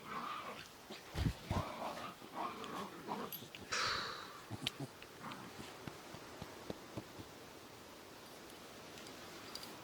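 A miniature pinscher whimpers and yips in short, intermittent bursts in a garden, fairly faint, with brief thumps and rustles in between.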